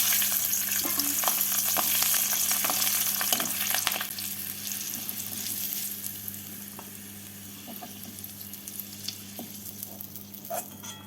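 Garlic cloves frying in hot oil give a steady, close, loud sizzle that crackles continuously and eases slightly toward the end, with no voices.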